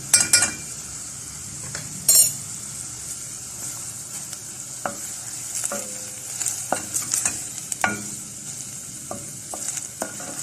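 Tomato paste and onions sizzle in a frying pan as a utensil stirs them, with a steady hiss broken by intermittent scrapes and clinks against the pan, close up and with no one talking.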